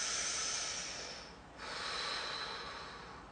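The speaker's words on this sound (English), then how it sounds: "I'm going to breathe in my mouth" Two long breaths drawn in through the mouth, a breathy hiss fading after about a second and a half and then resuming, close and fairly quiet during a stretching exercise.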